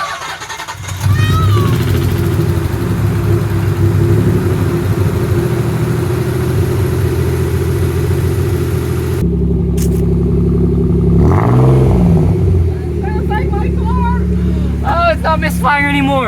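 A Nissan 300ZX engine cranks and fires up close by after fresh injector and coolant bypass work. It settles into a loud, steady idle with a rev partway through, and voices talk over the running engine.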